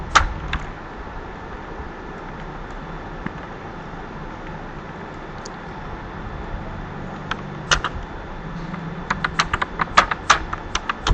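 Python code being typed on a computer keyboard, with soft key clicks under a steady background hum, sparse at first and then a quicker run of keystrokes near the end.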